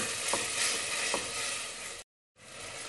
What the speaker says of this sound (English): And continue cooking tomatoes